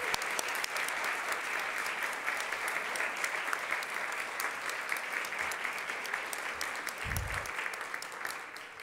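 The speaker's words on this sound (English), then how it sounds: "So now we can applaud for everybody." Applause for students at a school board of education meeting: dense, continuous clapping from an audience, steady and fairly even throughout with a brief low thump near the end.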